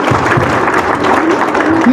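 Audience applause at a Vestige Initiative Program event in Kathmandu, Nepal: a loud, dense clatter of many hands clapping at once, filling the room steadily, with a few voices mixed faintly into the noise.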